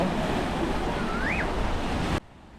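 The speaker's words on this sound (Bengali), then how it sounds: "আমার বসে বসে সমুদ্র দেখতে আর এই সমুদ্রের হাওয়া উপভোগ করতে বেশ ভালো লাগে" Sea waves and wind at Digha beach: a steady roaring wash of surf with gusty wind buffeting the microphone, a faint whistle-like tone briefly rising above it before the sound cuts off abruptly near the end.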